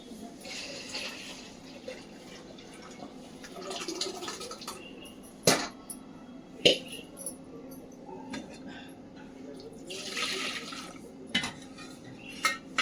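Ingredients go into a masala in a pot for spicy katachi amti and get stirred, giving quiet scraping with a few sharp metallic clinks of a spoon against the pot, faint and spread out over a low kitchen background.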